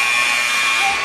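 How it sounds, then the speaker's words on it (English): A game-ending buzzer sounds in a high school girls' basketball game, ABS against Waterloo, a loud, steady, sustained electronic drone that fills the whole moment without a break, with no voices over it. "and that will sound the buzzer"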